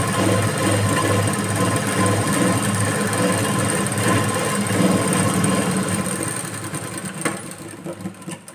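Sewing machine running steadily while top-stitching a folded strip on the back of a blouse, a continuous close mechanical whir that eases off and turns uneven near the end.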